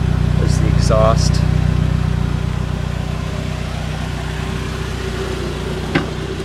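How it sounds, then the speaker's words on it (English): A 1999 Saab 9-3 SE convertible idles close by, its exhaust giving a steady low rumble throughout, with a brief higher whine near the start and a faint click toward the end. "There's the exhaust."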